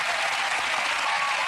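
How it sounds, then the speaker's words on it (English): Brief burst of steady audience applause at a televised magic show as a volunteer is welcomed on stage, dense clapping at an even level. "Give Kenny a round of applause"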